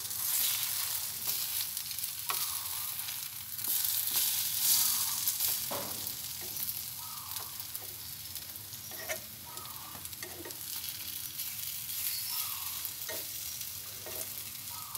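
Bread sizzles steadily in butter in a frying pan, a close, continuous crackle with occasional soft scraping as the slices are turned.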